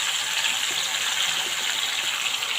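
Pieces of snake gourd fry in hot oil in a wok, giving off a steady, loud, close sizzle with no pauses.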